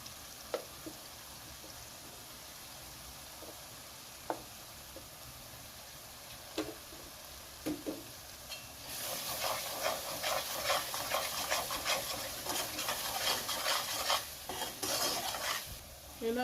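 Chicken deep-frying in oil in a pan and being stirred, with scattered clinks of a utensil at first, then a dense, steady sizzle and scraping stir taking over the second half, close and fairly loud with no talk.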